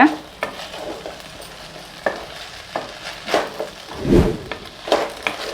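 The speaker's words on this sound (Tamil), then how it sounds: "ஒரு 3 to 5 மினிட்ஸ் இப்படியே வதக்கிக்கோங்க" Chilli idli sautéing in a pan, with repeated stirring scrapes and clinks over a steady soft sizzle, one louder scraping burst near the end, no voices.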